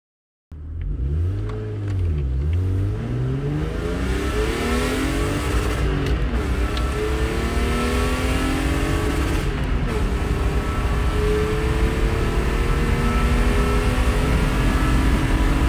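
A BMW E36 pulls away and drives on a short test drive, the engine revving up and down through gears in a steady, loud, close rumble that lasts throughout with no talking.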